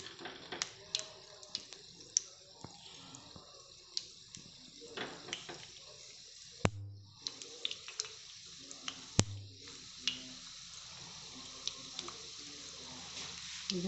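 Coconut and suji mixture frying quietly in hot oil over lowered gas, a faint steady sizzle with scattered small pops and clicks of utensils close by.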